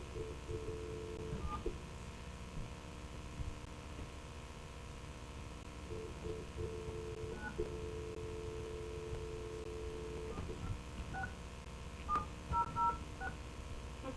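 A touch-tone phone dials into a conference call line during a city commission meeting, sending a quick series of DTMF beeps in bursts over a steady background hiss.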